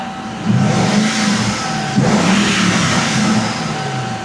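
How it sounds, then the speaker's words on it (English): A Ford Mustang Cobra's cold engine revs loudly and steadily nearby, rising in pitch twice with a rough, strained drone throughout. "You're revving a cold engine, Randy."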